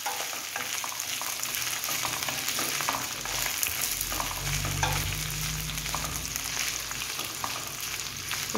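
Okra frying slowly in a pan on low heat, a steady, close crackling sizzle with soft stirring throughout and no voices.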